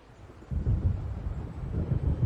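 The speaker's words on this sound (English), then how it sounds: "It seems there's a storm coming." Thunder from an approaching storm rolls in from a quiet start in the Alan Wake game, a deep low rumble that swells suddenly and keeps grumbling with pulsing surges, mixed with a windy hiss.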